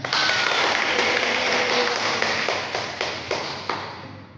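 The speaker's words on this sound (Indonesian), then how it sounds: "Tepuk tangan buat anak." Applause in an Indonesian classroom for a student who answered correctly: a dense, even wash of claps that holds steady and then thins out, with a few sharper single claps near the end.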